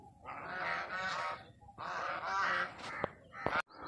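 Waterfowl honk and quack in loud, harsh bursts, two long noisy stretches followed by sharper single calls, close by with no talking.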